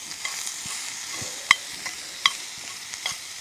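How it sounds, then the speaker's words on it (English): Food stirred in a pan over an open campfire in the bush: a soft continuous sizzle with scattered scraping clicks and a few sharper metallic taps of the utensil against the pan, quiet and close. "Bit of a stir up."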